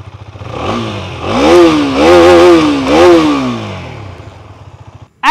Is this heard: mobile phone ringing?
no